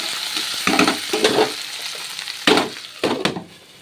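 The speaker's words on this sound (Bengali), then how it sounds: "আলুটা ভেজে নিচ্ছি" Potatoes fry in a pan with bursts of sizzling and scraping as they are stirred, several distinct stirring strokes standing out close against a quieter background hiss.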